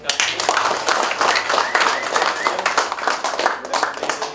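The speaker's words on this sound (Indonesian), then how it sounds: "Sekali lagi aplaus buat" An audience at a workshop bursts into sustained, dense applause, many hands clapping loudly and evenly throughout with little letup.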